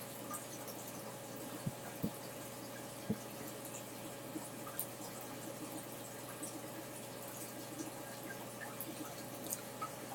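Water runs quietly through RODI filters as they purge, a faint steady trickle and hiss with a few soft drips.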